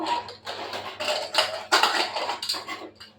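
Metal clattering as a cooled pressure cooker's lid is opened, a few clanks and scrapes of pot and lid against each other in an irregular rhythm, close and moderately loud.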